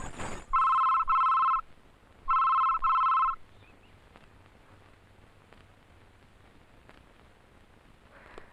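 A telephone rings in two bursts of double trills, loud and close, then stops, leaving a quiet room hum with faint ticks and no talk.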